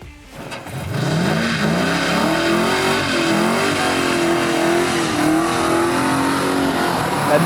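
A 1970 Dodge Charger R/T, the muscle car from Fast and Furious, fires up and holds a loud, deep, throbbing rev close by, rising and falling slightly with a steady rumble throughout.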